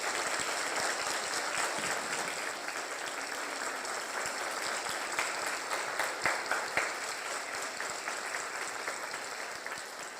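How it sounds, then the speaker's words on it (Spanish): An audience at a book presentation applauds Dr. Francisco Hernández Ortiz with sustained, even clapping that fills the room for about ten seconds, a few sharper claps standing out near the end. "Damos un aplauso al doctor Francisco Hernández Ortiz."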